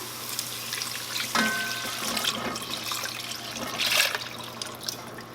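Beef broth poured into a pot for cheddar broccoli soup, a sudden splash followed by a gushing, bubbling flow that swells again near the end over a low background hiss, nearby and with no speech.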